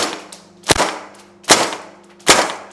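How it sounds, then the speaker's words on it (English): Three sharp semi-auto shots from an Umarex gas blowback airsoft rifle, each a loud crack with a heavy bolt clack, evenly spaced about 0.8 seconds apart over a faint steady hum. "going into some semi-auto shots"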